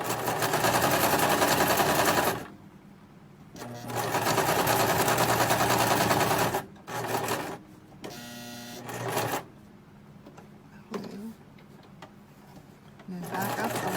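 A sewing machine stitches a thick, fluffy padded glasses case in rapid mechanical bursts, running for a couple of seconds, pausing, then running again in shorter spurts, with quiet talk in the gaps.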